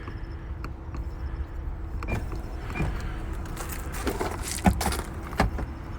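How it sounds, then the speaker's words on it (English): A power-folding rear seat in a 2020 Hyundai Palisade SUV moves with a steady motor whir inside the cabin, broken by several mechanical clicks and a heavier clunk near the end. "This is the first time we have power folding and lifting rear seats."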